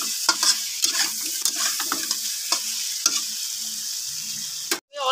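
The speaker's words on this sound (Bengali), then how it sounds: "এবার দিয়ে দিব বাগদা মাছ আর ইলিশ মাছের মাথা। মশলার সঙ্গে 1 থেকে 2 মিনিট আমি নেড়ে নেব।" Tiger prawns and a hilsa fish head sizzle loudly in spice paste in a hot pan, with a steady hiss broken by repeated scraping strokes of a spatula and a brief lull near the end.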